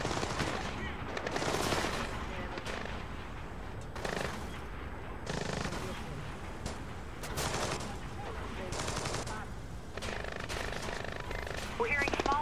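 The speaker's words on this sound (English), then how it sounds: "We're hearing small arms fire in the terminal, Sam." Small arms gunfire echoes through an airport terminal in Splinter Cell Blacklist, coming in repeated rapid bursts separated by short pauses, moderately loud, with some game sounds between volleys.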